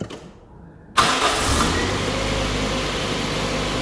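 A Toyota Starlet's engine cranks and catches with a sudden loud start, then settles into a steady, close idle rumble with no talking over it.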